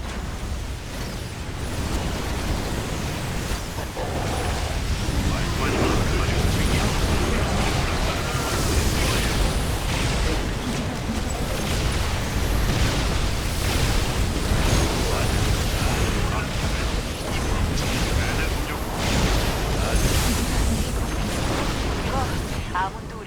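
Banelings explode in Heroes of the Storm in a dense, roaring barrage of booms and bursts. The blasts hold steady at a loud level throughout, with a voice speaking over the game noise.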